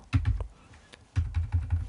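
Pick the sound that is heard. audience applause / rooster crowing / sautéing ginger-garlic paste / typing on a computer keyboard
typing on a computer keyboard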